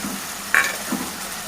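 Ginger garlic paste sizzles in a pan while being stirred for a taro and flat bean curry, a steady hiss with one sharp scrape partway through and a soft knock after it.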